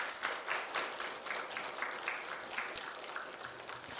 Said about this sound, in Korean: 다시 한번 박수 한번 해주세요.